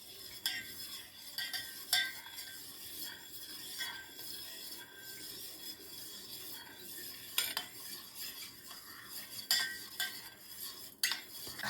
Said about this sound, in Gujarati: પછી હવે આપણે હલાવશું.